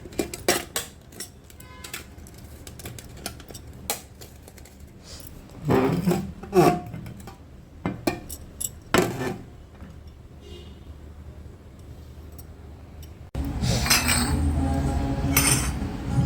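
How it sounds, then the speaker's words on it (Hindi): Metal puja utensils, including water lotas, clink and clatter as they are set out at home, a series of sharp, close knocks and rattles with a denser scraping burst near the end. "सारे बर्तन मैंने रख लिए हैं"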